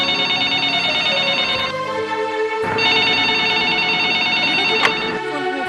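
An old-style telephone bell rings in a home in a Gujarati film, two loud sustained bursts of ringing split by a short pause, with no talk over it.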